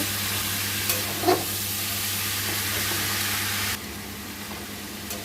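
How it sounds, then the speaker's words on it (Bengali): Boiled cabbage stirred through hot spiced oil in a pan with Kashmiri chilli, a steady sizzle with a couple of scraping clinks, dropping quieter partway through as the frying settles. "দিয়ে দেবো সেদ্ধ করা বাঁধাকপিগুলো, দিয়ে ভালোভাবে নাড়িয়ে চাড়িয়ে নেব"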